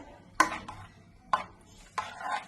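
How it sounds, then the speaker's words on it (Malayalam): Ground coconut paste is stirred into an ash gourd curry in a pan. Three distinct scraping strokes come at a slow, even pace, quiet and close, with thick wet swishing between them. "നമുക്ക് ഈ അരപ്പ് ഇതിലേക്ക് ഒഴിച്ചെടുക്കാം. ഒന്ന് ഇളക്കി ചേർത്ത്"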